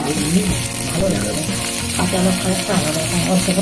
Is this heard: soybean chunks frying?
yes